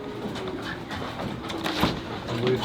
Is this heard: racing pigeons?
yes